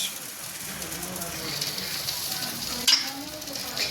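Onions and tomatoes frying in a pan give a steady, close sizzle with faint stirring, and a sharp clink near the end; voices talk softly underneath.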